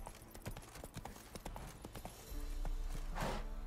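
Horse hooves clip-clopping in the video game The Witcher 3, a quick irregular series of hoof taps over a dense game background that swells toward the end, with no talking.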